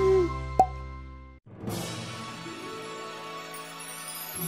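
Salt tipped into water in a children's magic play scene: a single sharp plop, then a sustained shimmering, sparkling tone with layered harmonics that swells and lingers, no talk over it.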